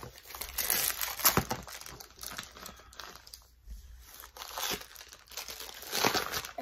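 Black plastic wrapping is torn and crinkled off a cardboard tube, in close, loud bursts of crumpling and ripping with brief quieter pauses, no talking.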